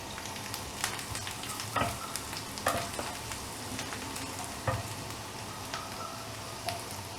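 Chopped ginger fries in a pan with garlic for a veg burger, giving a soft, steady sizzle punctuated by occasional sharp scraping and stirring clicks, fairly faint and with no voices.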